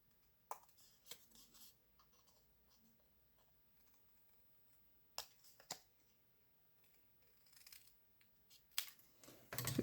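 Paper card for a pop-up card being bevelled with a blade, giving a few short, faint scraping and cutting strokes in bursts separated by quiet gaps, with a slightly louder cluster near the end.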